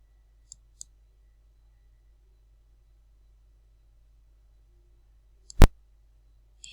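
A mouse button clicks on a drop-down menu during a computer tutorial: two soft, widely spaced clicks early, then one sharp, loud click later and a faint final tick, all against near silence.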